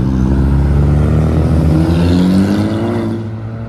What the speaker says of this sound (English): Got the Golf R32 Mark IV leaving. And the all blue Focus ST.